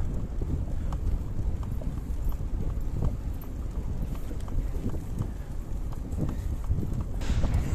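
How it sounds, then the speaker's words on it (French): Steady clip-clop of horse hooves on hard ground near Aigues-Mortes, a regular rhythm close by, with wind noise buffeting the microphone throughout. "Ah, une petite balade en cheval."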